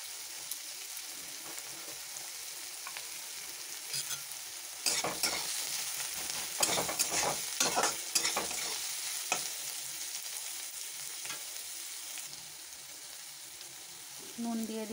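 Chopped garlic fries in a hot pan with a steady sizzle, while a spoon stirs and scrapes in bursts of louder clatter, close and alone without talk.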